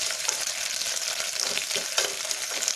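Small onions sauté in a pan for Tamil Nadu sambar, giving a steady close sizzle and crackle of frying with soft stirring scrapes and no talk.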